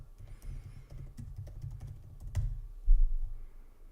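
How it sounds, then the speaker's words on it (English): Soft, steady typing on a computer keyboard, close by, a continuous patter of keystrokes over a low background rumble with one louder thump near the end. "I'm typing exactly what you wrote, by the way."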